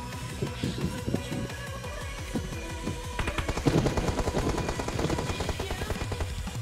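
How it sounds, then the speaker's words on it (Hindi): Rapid gunfire in PUBG Mobile striking a wall, a dense stream of close automatic shots that thickens and grows louder in the second half, with faint game ambience underneath. "दीवार के पीछे गोलियां लगी है उसको अच्छी खासी।"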